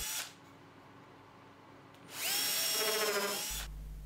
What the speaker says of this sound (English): So first I'm going to pre-drill some countersunk holes.